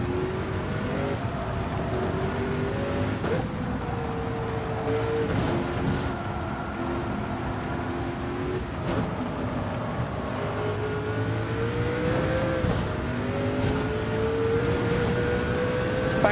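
A race car engine in Gran Turismo 7 at Le Mans screams continuously, revs rising and dropping with quick gear shifts, loud and close throughout.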